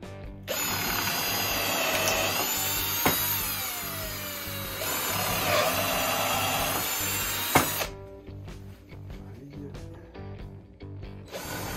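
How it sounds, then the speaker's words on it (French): Power drill boring holes into an MTF mobile workbench, a loud whirring whine with shifting pitch, brief bursts between holes, then fading to quieter handling noises at the end. "Et là, je peux faire mes derniers trous."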